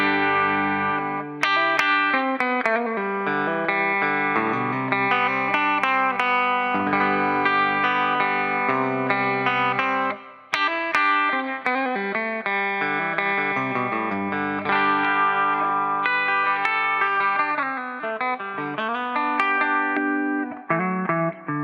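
Electric guitar played through the clean channel of an Epiphone So Cal 50 amp head, a continuous stream of chords and melodic notes with some effects coloring, loud and close with no speech.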